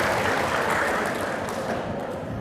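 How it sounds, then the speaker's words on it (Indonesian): An audience at a Muhammadiyah gathering claps together in sustained, dense applause that holds steady and loud throughout, with no voices over it. "Tepuk tangan untuk kita Bapak Ibu Muhammadiyah."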